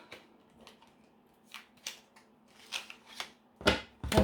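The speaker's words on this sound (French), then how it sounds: "Alors ça, c'est l'oracle" Oracle cards from a love-themed deck are shuffled by hand for a reading, making several short, crisp riffling bursts close by and quietly, with pauses in between.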